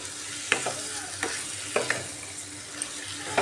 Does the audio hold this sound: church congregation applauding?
no